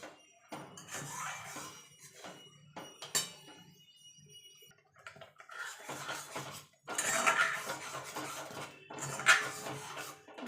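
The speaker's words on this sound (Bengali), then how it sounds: "আমটাকে আমি এবার কেটে নেব" A knife cuts through a raw green mango in a home kitchen, giving a series of irregular close chops and scrapes against a board with short quiet gaps between them.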